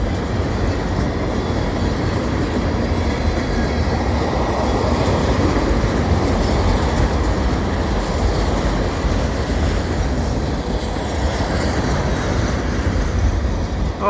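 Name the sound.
freight train passing Lachine EXO station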